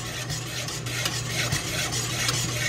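Milk powder being stirred into milk for a Lab e Shireen dessert, with a steady scraping rub of a spoon against the pot, repeated in quick strokes alongside a low constant hum.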